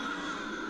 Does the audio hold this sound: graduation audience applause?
no